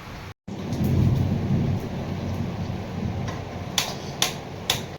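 Heavy rain pours steadily outside during a thunderstorm, a dense hiss with a low rolling rumble of thunder near the start and a few sharp ticking drops or clicks toward the end.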